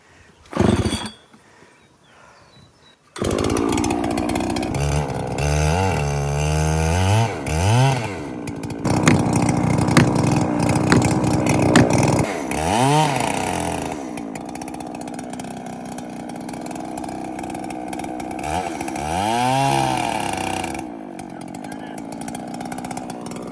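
A massive chainsaw cuts through wood while clearing land, kicking in after a brief pause and snarling loudly and close, its pitch rising and dropping repeatedly as it bogs into cuts and revs free, with voices talking over it.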